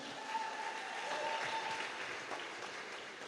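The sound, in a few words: audience applause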